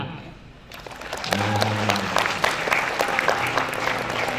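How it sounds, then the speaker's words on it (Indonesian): Students and guests at a school orientation event clap together after an announcement, the applause swelling in after a quiet start while a voice and some sustained tones sound underneath. "Tepuk tangan."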